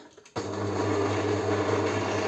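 An electric mixer switches on abruptly and then whirs at a steady pitch, whipping a milk-cooked custard cream for a layered cake.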